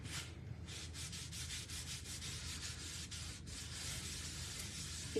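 Wax being rubbed onto a painted wooden Halloween cow sign, a steady series of quick, close back-and-forth scrubbing strokes repeating evenly throughout with no talking.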